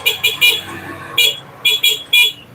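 A Benelli motorcycle horn honks in repeated short bursts: a quick triple beep, then a single blast, then another quick run of toots, loud and close at a dealership in Urdaneta, Pangasinan.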